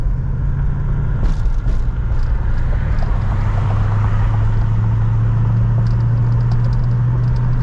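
A 1982 Mercury Cougar XR7 drives along with a steady, loud interior engine drone and road rumble, the engine note settling lower as it shifts into overdrive.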